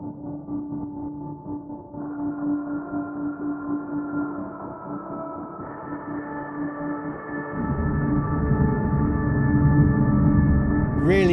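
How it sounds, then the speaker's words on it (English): An ambient synth texture patch built from recorded server noise, with a steady layered drone that steps up in pitch and thickens into a louder, denser low wash toward the end. "So that sound is made from our own servers."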